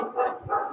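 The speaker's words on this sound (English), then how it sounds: "Sorry for the barking dogs." A couple of quick dog barks in close succession, moderately loud and fairly close, during a live-streamed talk.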